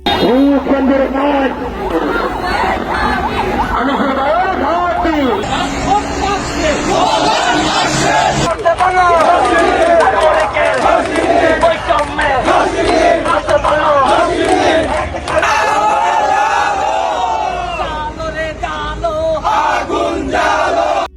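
A Bangladeshi political procession for a newly launched party, with a large crowd loudly chanting slogans in rhythmic unison, voices rising and falling continuously near the listener.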